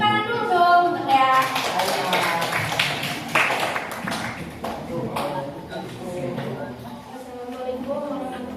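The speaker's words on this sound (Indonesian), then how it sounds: "Tepuk tangan dulu dong untuk Dea." Classroom audience applauding a student presenter with brisk, dense clapping that fades over several seconds, while voices murmur and talk over it.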